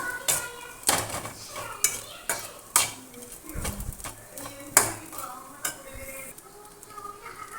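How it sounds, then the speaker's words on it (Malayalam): Grated coconut frying with spices for ulli theeyal is stirred briskly, with sharp, rhythmic spatula scrapes and clinks on the pan above a light sizzle, close and fairly loud. "തേങ്ങയെല്ലാം ഫ്രൈ ആയി വന്നിട്ടുണ്ട്"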